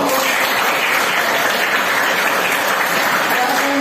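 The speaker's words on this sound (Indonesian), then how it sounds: "Baik, tepuk tangan." Classmates in a school classroom applaud steadily after a persuasive speech practice, a dense, even wash of clapping that stays loud from start to finish.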